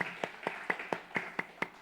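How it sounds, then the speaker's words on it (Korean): A church congregation claps in a steady, even rhythm during a Sunday worship service, with regular sharp claps at about four per second that are faint and distant, with no talk. "축복의 근원 되신 우리 하나님 앞에 영광의 박수 올려드립시다"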